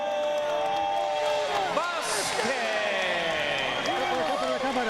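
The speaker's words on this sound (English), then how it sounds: "The crowd saluting" Boxing arena crowd cheering and roaring to salute the WBC super bantamweight champion Israel Vazquez after a technical knockout win over Rafael Marquez, a steady loud wash of voices with a ring announcer talking over it.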